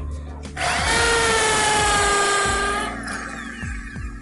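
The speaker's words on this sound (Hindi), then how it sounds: "आप रेडी हैं ड्रिलिंग के लिए" A power drill from a home tool kit bores into concrete, spinning up to a loud, steady whine with grinding for a couple of seconds before winding down, with a thumping rhythm underneath.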